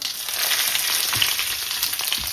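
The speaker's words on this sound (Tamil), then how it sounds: "இப்போ நான் இதோட உள்ளி போடுறேன்" Garlic sizzling in hot oil alongside cloves, bay leaves and cinnamon pieces for tomato rice, a steady close crackling fry with occasional soft pops and stirring clinks.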